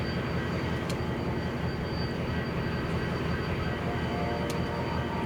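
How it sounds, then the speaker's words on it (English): A train passes far off on a CSX line just beyond a rail interchange, heard as a faint, steady low rumble that holds evenly throughout with no nearby voices. "very faintly, I heard a train passing on CSX just beyond the interchange point"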